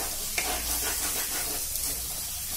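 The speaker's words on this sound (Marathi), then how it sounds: "व्यवस्थित तेलामध्ये चांगलं परतून घ्यायचं" Spices frying in hot oil for paneer tikka masala, a steady close sizzle and hiss with a couple of soft stirring scrapes, no talking.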